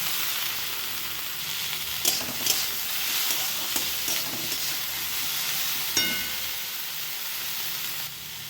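Chopped capsicum and carrot sizzle steadily in a hot pan while being stirred, with a constant frying hiss broken by a few louder scrapes and clacks of the spatula.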